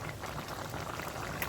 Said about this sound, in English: It's all bubbling up in there guys with all the additional seasoning I just add into it.